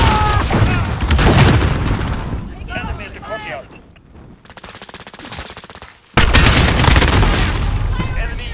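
A grenade explosion in the multiplayer video game Call of Duty: Modern Warfare, amid loud, near bursts of rapid gunfire, with a sudden heavy blast late on and voices in the mix.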